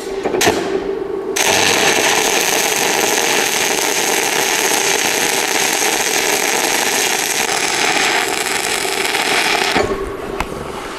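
Arc welding with coated (glazed) electrodes produces a loud, continuous crackling buzz that runs for about nine seconds without a break, then cuts off. The sound is close, and nobody talks over it.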